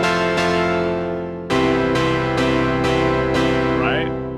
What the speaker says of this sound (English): Listen how nice and energetic this is for chords.